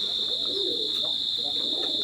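Teddy pigeons kept for sale coo softly in a loft, a low murmuring coo recurring under a steady high-pitched electronic whine.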